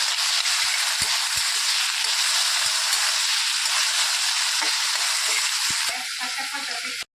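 Onion, garlic, chilli and tomato fry in a pan, making a loud, continuous hissing sizzle with faint scraping underneath that eases slightly near the end.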